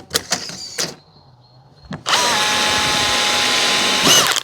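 A power drill drives a screw into plywood during wall building: a few sharp clicks and knocks, then a loud, close, steady whine for about two seconds before it stops.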